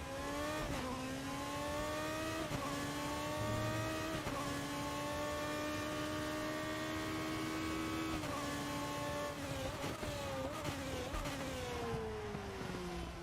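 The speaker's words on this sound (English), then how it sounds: "Sound good, these little F2 cars" A high-pitched F2 race car engine in RaceRoom Racing Experience whines steadily, dropping briefly at each gear shift and climbing again, loud and continuous with no voices.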